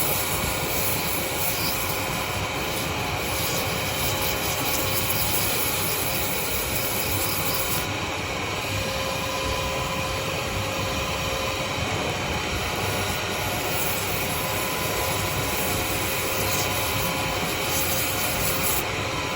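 A wooden pen spins on a wood lathe while fine 320-grit sandpaper is pressed against it, giving a steady, loud broadband whir and hiss that runs on without a break and with no talking.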